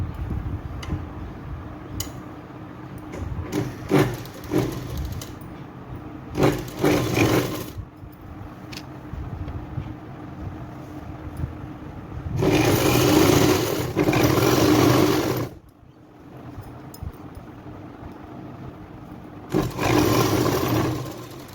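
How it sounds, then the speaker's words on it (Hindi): An electric sewing machine stitches a six-panel petticoat in several bursts, short quick runs early on and then two longer whirring stretches, with a quiet room in between. "हम सिलाई लगा देंगे इसमें।"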